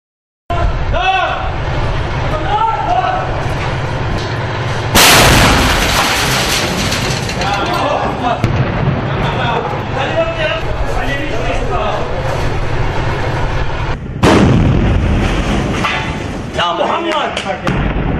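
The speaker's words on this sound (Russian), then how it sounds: "И на десерт удар артиллерии." Artillery strikes on a target near Al Kabun, Syria, land as two heavy broadband booms partway through, set against a dense bed of noise and voices talking throughout.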